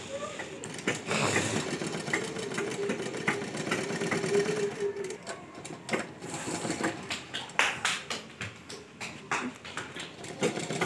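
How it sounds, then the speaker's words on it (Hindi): Sewing machine stitching the panels of a ghagra skirt, a fast mechanical whirring that runs in bursts, near and steady, with someone talking over it. "और ये सभी कली इसी तरह से आपको सिलाई लेनी है, इतनी इतनी सिलाई लेनी है"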